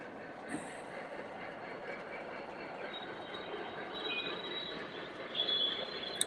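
A Legacy Allegheny model train engine with a three-speaker sound system runs with a faint, steady rolling rumble and thin high squeal tones, quiet throughout, with a slight swell near the end and no talk.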